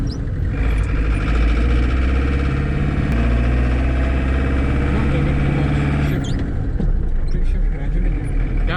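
Noisy Fiat Uno diesel engine running with mismatched injectors and pump from another car, a steady loud low rumble throughout, with a shift in tone near the end.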